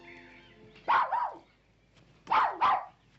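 A small dog, a terrier, gives two pairs of sharp barks in fairly quiet surroundings, each pair a quick double bark separated by a short pause.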